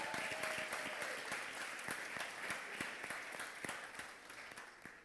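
A church audience applauds a volunteer called forward during a sermon, steady dense clapping throughout, evenly loud and close, with no talking over it.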